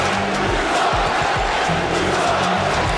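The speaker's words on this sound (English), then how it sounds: "Listen to the crowd telling him what they think, telling him he sucks." A wrestling arena crowd jeers a champion, a loud continuous roar of voices with scattered shouts and thumping noises filling the whole stretch.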